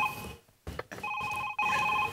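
A telephone rings during a Marathi stage comedy show, with a bright electronic tone sounding in short bursts broken by brief gaps, fairly close and clear.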